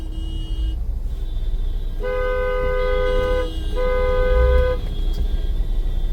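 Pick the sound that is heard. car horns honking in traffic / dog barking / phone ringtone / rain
car horns honking in traffic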